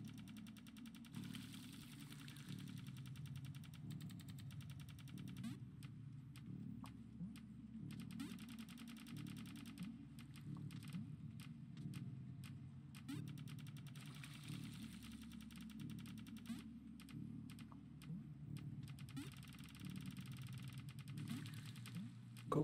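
A crank mechanism being turned in the video game Animal Well gives a faint, steady mechanical whirring drone with scattered quick clicks that runs unbroken for over twenty seconds.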